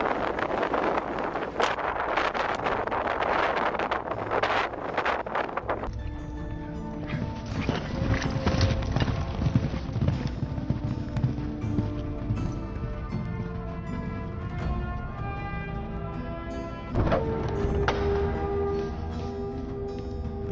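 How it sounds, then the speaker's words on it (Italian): Strong mountaintop wind buffets the microphone in steady roaring gusts, loud and continuous with rumbling bursts, and no voices over it. "Questa località è molto ventosa, specialmente in cima alla montagna."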